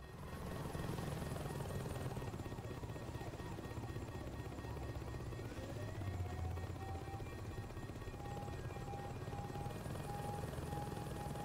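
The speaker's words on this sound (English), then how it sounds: "There should be a helicopter on the roof." Helicopter on a rooftop in the video game Saints Row 2, its rotor drone loud and continuous throughout, with a rising whine midway and no speech over it.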